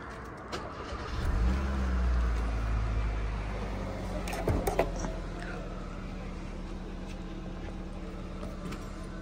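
A Kia Cerato's engine turns over and settles into a low, steady idle nearby, rising in a rough hum early on, with a few clicks and knocks before the rumble evens out.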